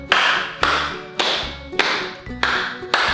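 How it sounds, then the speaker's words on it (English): Children's storytime rhythm of hands clapping and slapping on legs, six sharp, evenly spaced claps and pats about half a second apart, close and loud, with hollow thumps between them. "I need you to clap your hands and clap your legs too."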